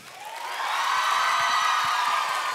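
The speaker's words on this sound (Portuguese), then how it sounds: "Vamos aplaudir?" Audience applause welcoming young performer Matheus Ueta on a Brazilian TV stage, a dense steady wash of clapping and faint cheers swelling after the first half second and holding loud to the end.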